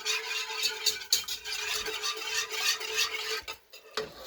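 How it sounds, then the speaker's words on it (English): Fettuccine Alfredo sauce whisked in a pan on the stove: a steady, fast, rattling scrape of the whisk against metal, close by and continuous, with a brief pause near the end. "Let me whisk this."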